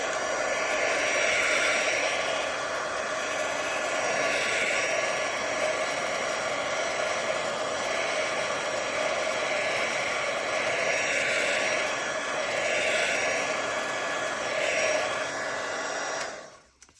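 A hair dryer blows a steady, close whooshing roar while drying a kintsugi house craft piece, running alone for most of the time before cutting off abruptly at the end.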